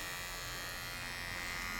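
Electric hair clipper running for a shave, a continuous close buzzing hum at steady loudness, no talking.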